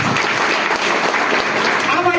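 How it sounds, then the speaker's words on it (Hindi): An audience breaks into loud, dense applause, a steady wash of clapping that fills the whole stretch, with some voices mixed in. "जोरदार ताली।"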